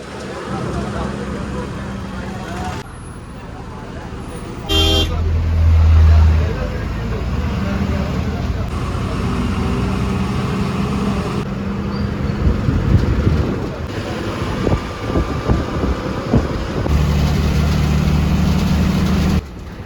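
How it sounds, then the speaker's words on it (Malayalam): A KSRTC long-distance bus travelling from Kochi toward Velankanni rumbles along with a steady low engine drone and road noise, gear shifts and bumps, while someone talks over it much of the time. "വല്ലാർപാടം വഴിയാണ്ടാ ഈ ബസ് പോയിക്കൊണ്ടിരിക്കുന്നത്"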